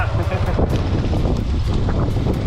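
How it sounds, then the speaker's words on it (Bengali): Wind gusting across a riverbank near the Meghalaya border, a steady loud roar buffeting the microphone throughout, with voices faintly beneath it. "নদীর পাড় থেকে বাতাস আসছে ভালো"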